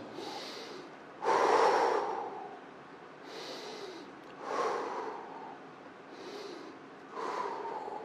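Deep, slow breaths during a stretching exercise in a fitness session, three long airy inhales and exhales spaced a few seconds apart, close and fairly soft with no talking.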